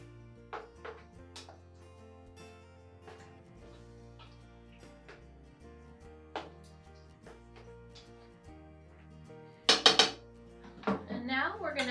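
Chicken Murphy with jalapenos and Rotel being stirred in a pot, with soft scraping and clinks of a utensil against the pot throughout and a burst of louder metallic clatter near the end, under faint background music.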